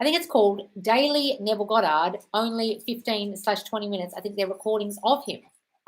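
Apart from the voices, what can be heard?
None of the usual background noises is heard.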